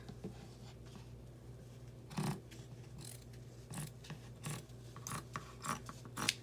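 Scissors snipping through denim jeans fabric, several short crisp cuts that come in an uneven rhythm, close and quiet against a faint steady hum.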